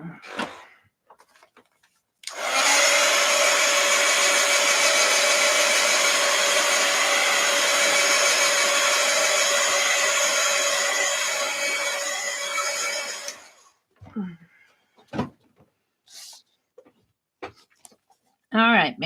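A blow dryer runs continuously for about eleven seconds with a steady loud whir, then cuts off, followed by scattered handling noises and a voice.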